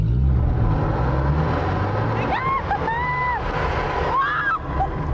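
A car drives along with a low, steady engine and road rumble, while people talk over it.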